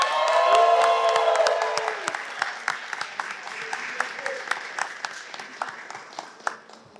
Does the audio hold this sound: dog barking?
no